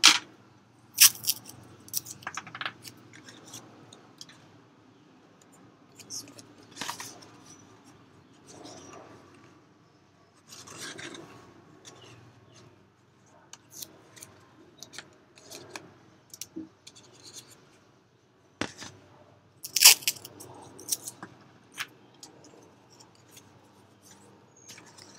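Scissors snip through paper while cutting out the fins and tail of a sea turtle craft, a series of short, crisp cuts with brief pauses between them, close by and fairly quiet.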